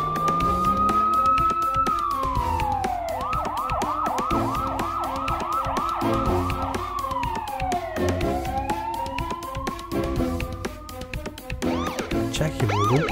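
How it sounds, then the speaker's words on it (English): A cartoon police car siren wails loudly and continuously, sweeping up and down through fast yelping bursts and slower rising-falling tones, with music underneath. "Turn on the sirens to get there faster."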